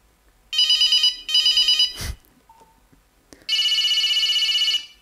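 A Nokia 5110 mobile phone plays its ringtones as bright, piercing monophonic beeping melodies. Two short bursts come first, then a thud, then a longer tune, all clear and close.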